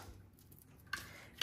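Scissors trim silver foil ribbon on a handmade greeting card, two short crisp snips close by, the second louder, after a quiet pause.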